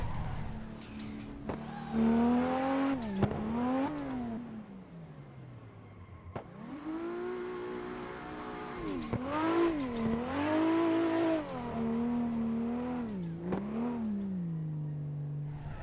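Car doing a handbrake drift entry after a downshift to second gear, with the engine revving up and down in loud, rising and falling surges and brief tire noise.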